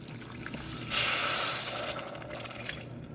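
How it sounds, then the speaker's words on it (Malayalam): Half a glass of water splashes into a pan holding sugar for syrup, a bright pour lasting under a second, followed by quieter trickling and drips. "1/2 ഗ്ലാസ് വെള്ളമാണ് ഞാനിപ്പോൾ ഒഴിച്ചു കൊടുത്തേക്കുന്നത്"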